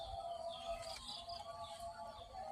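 Rare prenjak birds, two released pairs, chirp and twitter faintly in the open, with thin repeated calls over a quiet outdoor background.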